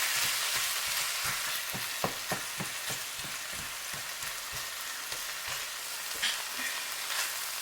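Sardines frying in a hot pan, stirred with repeated scraping strokes over a steady, rain-like sizzle, close and fairly loud, with no talking.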